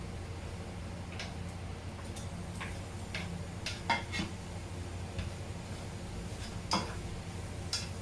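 A utensil stirs egg into noodles in a home-cooked pan. Soft scraping runs throughout, broken by scattered light taps and clinks against the pan, all fairly quiet and close.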